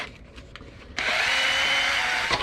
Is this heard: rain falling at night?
no